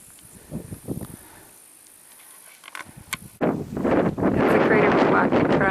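Gritty wind gusts across the exposed volcanic Tongariro Alpine Crossing trail, buffeting the microphone with rough, rumbling bursts that start patchy and then turn loud and constant, with a person speaking between gusts.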